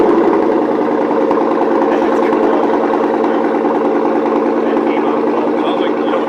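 A Chevy Tahoe's 5.3L V8 idles steadily through a newly installed Corsa cat-back dual exhaust, giving a loud, continuous low rumble close by, with no pauses or revving.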